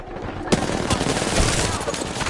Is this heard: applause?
no